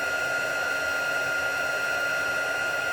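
A heat tool for embossing, set to its second setting, blows steadily, a loud, even, breathy whir with a constant high whine held throughout while warming up to melt embossing powder.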